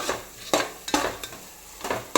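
Turmeric, chili powder, coriander powder and garam masala being stirred into an egg pulav mixture in a pot: a handful of distinct scraping, sizzling spoon strokes spaced about half a second apart, close and fairly loud with no voice.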